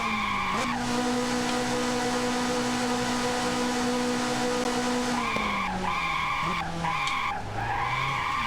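A retro racing video game plays a loud, sustained synthesized race car engine whine with steady tonal harmonics. The pitch dips and shifts near the end alongside skidding tire squeal, and no voices are heard.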